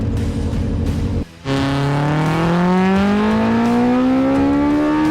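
A gas roadster land speed race car launches off the line at a dry-lake course, its engine revving briefly, cutting out, then roaring and climbing steadily in pitch as it pulls away, loud and close.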